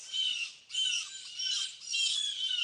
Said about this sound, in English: I don't know what's up with them birds. They're having a fit.